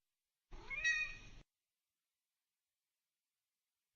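A single cat meow, clear and close, lasting about a second near the start, followed by silence.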